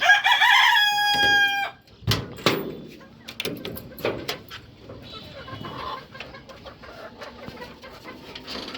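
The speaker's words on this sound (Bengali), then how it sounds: "তো এ হচ্ছে আমার মুরগি ওইটা দেখতে পাচ্ছেন" A Fayoumi rooster kept on a rooftop crows loudly and close at the start, followed by scattered clucks, a door knock or bang, and a voice talking over the softer hen sounds.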